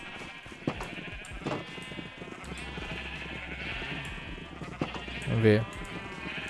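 Sheep in Minecraft bleat repeatedly while being herded out of a pen, a sharp loud bleat standing out near the end over steady game background sound and someone speaking Portuguese.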